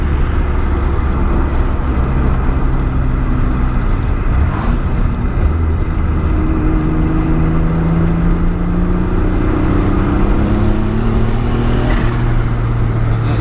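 A car with a Nissan J32 engine, after losing oil from a damaged oil cooler fitting, accelerates at partial throttle with a loud, steady engine drone whose pitch climbs in waves as it pulls, heard from inside the car.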